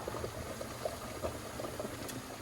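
Marsala sauce for veal coming to a gentle simmer in a pan, soft low bubbling with small pops, quiet and steady, no talk.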